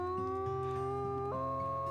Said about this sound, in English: And there's Phoenix's howl.